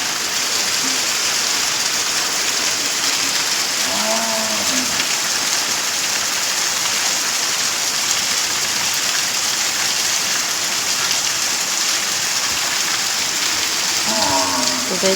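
Steady heavy rain hisses continuously throughout, a dense even wash of falling water with a couple of faint brief tones around it and no clear talking.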